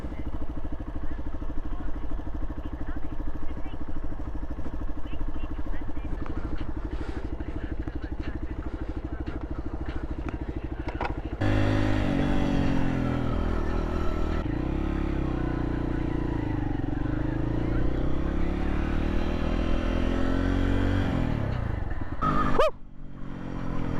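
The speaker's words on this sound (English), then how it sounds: "It's good to be back on the bike." Motorcycle engine runs steadily at a low idle, then at about 11 seconds the engine note rises and changes pitch as the bike pulls away and rides on, with a loud constant engine drone and a brief dip near the end.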